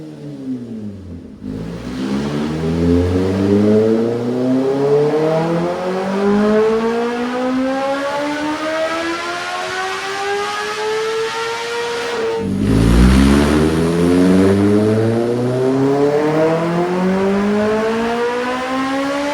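A 2026 Kawasaki ZX-10R with velocity stacks, air filter and new exhaust screams through two full-throttle dyno pulls, each rising steadily in pitch to a howling peak before cutting off, close and loud.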